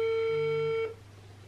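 An outgoing phone call rings with a single steady electronic ring tone that cuts off abruptly, leaving a quiet room.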